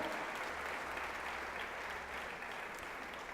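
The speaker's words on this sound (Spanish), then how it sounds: "Démosle un aplauso a Jesús esta mañana." A church congregation applauding together, a continuous, even roar of clapping that sounds somewhat distant in a reverberant room, with a low hum underneath.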